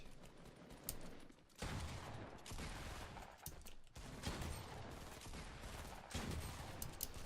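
A shotgun fires in a first-person shooter video game, with several booming blasts spaced about a second or two apart and dense mechanical noise in between, no voices over it.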